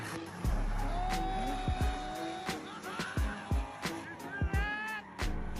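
Drifting car tires squealing in repeated high, wavering screeches, interleaved with engine revs and short bursts, fairly close and moderately loud, with brief quiet gaps between slides.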